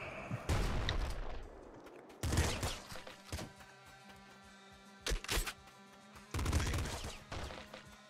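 A pop gun fires in the video game Nuclear Throne in several short rattling bursts separated by quieter gaps, loud and punchy against a faint game background.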